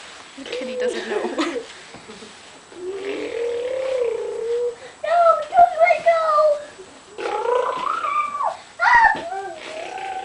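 A cat makes drawn-out, wavering vocal sounds, several calls in a row with pauses between them, close by.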